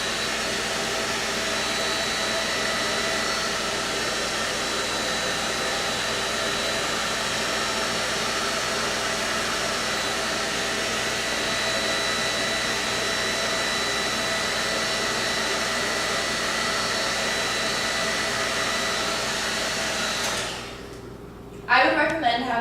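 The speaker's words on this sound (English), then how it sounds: "you can use the blow dryer to kind of manipulate where the drips go" A blow dryer used to melt crayon wax on canvas blows a loud, steady whooshing roar for about twenty seconds, then cuts off abruptly, followed by a few brief clunks of handling.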